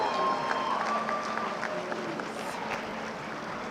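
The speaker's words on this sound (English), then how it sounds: "let's please share a round of applause for these candidates" Applause from a crowd at a college commencement ceremony, a soft, steady wash of clapping that sounds somewhat distant and fades slightly over a few seconds.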